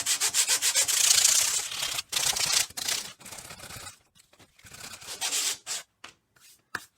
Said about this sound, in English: I'm roughing up the surface in order to allow the epoxy to bind a little bit